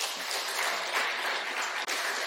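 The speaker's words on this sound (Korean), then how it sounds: "박수로 격려해 주십시오." Congregation applauding during a Sunday service at a Baptist church in Ulsan after a baptism; steady, dense clapping fills the room for a couple of seconds with a brief dip near the end.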